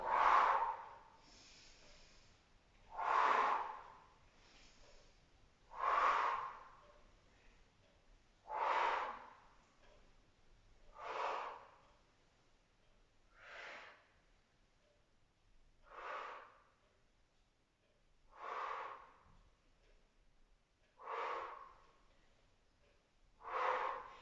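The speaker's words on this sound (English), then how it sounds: "You're going to inhale as you lower again. Exhale up." Heavy rhythmic breathing during a postnatal exercise workout, about ten slow, even breaths, each a soft rush of air repeating every few seconds, close and fairly faint with no talking.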